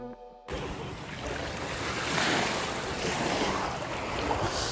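Ocean surf at a beach rushes in a broad steady roar, swelling and easing as the waves wash in, with wind buffeting the microphone and no voices.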